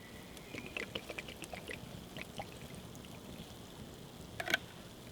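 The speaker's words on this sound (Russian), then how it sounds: "Воды можно добавить туда чуть-чуть, потому что сами по себе сморчки, они очень водянистые" Water trickles faintly into a pan of morel mushrooms being cooked over a campfire outdoors, a quiet intermittent pour with a few light splashes and a brief louder splash near the end.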